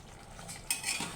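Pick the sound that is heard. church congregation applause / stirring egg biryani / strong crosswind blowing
stirring egg biryani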